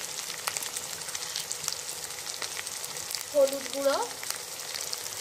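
A chhana mixture fries with spices, including turmeric, in a pan, giving a steady, soft sizzle throughout, with a couple of brief scraping clinks near the end while someone speaks over it.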